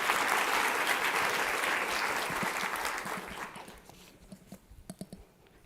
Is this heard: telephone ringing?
no